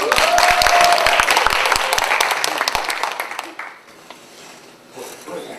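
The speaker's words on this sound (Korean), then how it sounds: "그 박수 쳐야죠, 너무." Audience applause for three invited experts at a panel discussion, loud dense clapping with sharp individual claps that thins out and fades to scattered claps by the end.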